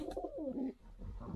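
Red helmet pigeons in a cage give soft, throaty coos, a short run of close, warbling calls followed by quieter murmuring.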